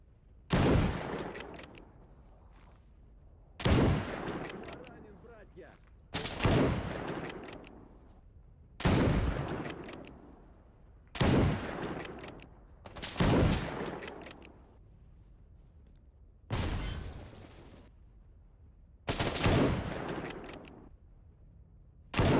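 Gunfire in the video game S.T.A.L.K.E.R. GAMMA 0.9.3: about eight loud, sharp shots or short bursts, spaced a few seconds apart, each trailing off in a rumbling echo, with no voices.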